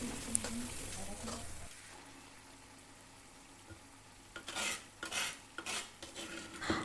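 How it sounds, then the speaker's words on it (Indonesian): Kluwek (pucung) being stirred into cooked spice paste in a pan for Betawi sayur pucung: a soft, low sizzle, then scraping stirs that grow louder and more frequent toward the end. "Masukin kluweknya atau pucungnya kalau udah bumbunya udah matang, kemudian diaduk-aduk."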